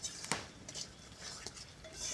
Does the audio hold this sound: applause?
no